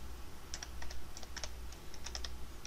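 Quick bursts of typing on a computer keyboard as a name is entered, crisp close key clicks in short irregular runs over a low steady hum; no talking.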